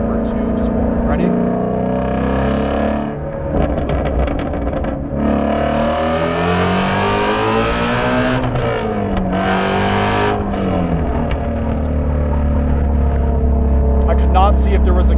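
A Ford Shelby GT350's engine revs up through a hard acceleration run, the pitch climbing and dropping across gear changes in a loud, close roar, with a voice talking over it at times.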